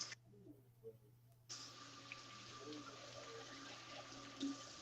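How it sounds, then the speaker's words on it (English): Tap water runs into a sink as hands are washed, starting briefly, stopping, then flowing steadily and fairly quietly for several seconds in a home kitchen while baking banana bread. "let me just wash my hands"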